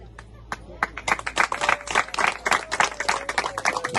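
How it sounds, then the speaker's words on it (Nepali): Wedding guests clapping in a crowd at Bishal and Usha's wedding, a dense run of hand claps building after a few scattered opening claps and carrying on steadily, with faint voices underneath. "लगाउँदै गर्दाखेरि हामी सबैले ताली बजाउनु होला है त"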